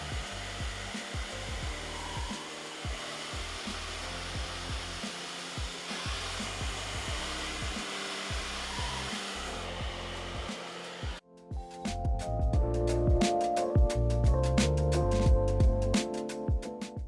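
A KIPOZI hair dryer runs steadily on its highest heat setting as a loud, continuous airflow roar, growing louder and harsher near the end as the nozzle moves closer.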